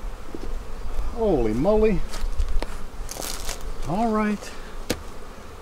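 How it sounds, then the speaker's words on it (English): Honey bees swarm loudly around an open beehive while two hives are being combined into a bee barn, a dense steady buzz close to the microphone, with a person briefly speaking over it. "there's a lot of bees down here"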